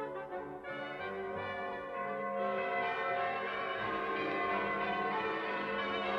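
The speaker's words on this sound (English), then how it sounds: "the sound of bells began to ring across the fields. They were the church bells of the city of London" Church bells peal continuously, several bells overlapping in a rich, steady ringing that swells slightly toward the end, with no voices.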